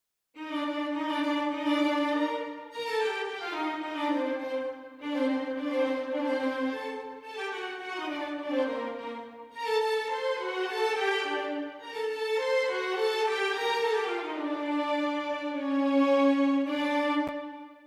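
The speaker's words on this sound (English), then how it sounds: "going to violins 1 and 2, they represent the famous theme." Sustained bowed sampled violins play the slow, legato theme of a Mozart symphony in long phrases with brief pauses, rich and smooth, no voices.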